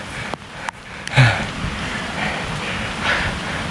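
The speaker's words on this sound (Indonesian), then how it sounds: "Hujan deras, guys." Heavy rain pours onto a trail shelter on a mountain hiking route up Puncak Junghun via Citiis, a steady broadband hiss with a few brief knocks and rustles close by.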